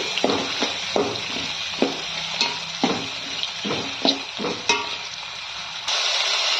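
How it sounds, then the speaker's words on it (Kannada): Onions fry in tempering oil with curry leaves for bisi bele bath, a close steady sizzle broken by rhythmic stirring scrapes against the pan, ending in an unbroken hiss, no talking. "ಈರುಳ್ಳಿನ ಸೇರ್ಕೊಳ್ತೀನಿ ಈಗ ಇದು ಸ್ವಲ್ಪ ಫ್ರೈ ಆಗಲಿ"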